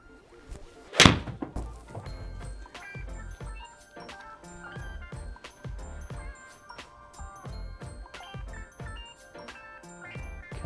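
A 6-iron strike on a golf ball at a golf club practice area, one sharp, loud thwack near the start, followed by a steady bed of quieter clattering background sounds.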